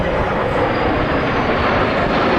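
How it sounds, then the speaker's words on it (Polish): A Boeing 737-800 New Generation passes over a military parade in Warsaw, escorted by two F-16 fighter jets, heard as a loud, steady roar of jet engines that fills the whole clip with no voices. "737-800 New Generation z pierwszej bazy lotnictwa transportowego w Warszawie w asyście dwóch myśliwców F-16 z 31 bazy lotnictwa taktycznego w Poznaniu"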